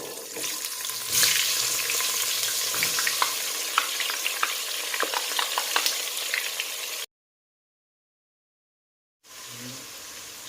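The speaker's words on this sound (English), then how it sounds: "The salted fish is well fried, so I'll add my onion to it." Onion added to salted fish frying in a pan for a Ghana beans stew sizzles and crackles steadily for about seven seconds, with stirring clicks. It then cuts to silence, and a brief burst of frying returns after.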